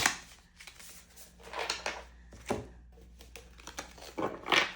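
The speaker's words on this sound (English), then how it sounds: "I am just going to shuffle them all at once" Tarot cards being shuffled by hand, a series of soft, papery riffling and flicking bursts at close range, alone with no talking.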